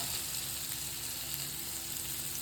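A spice mixture for chutney kulambu sautéing in a pan, heard as a steady, even frying hiss at moderate level, continuous and without speech.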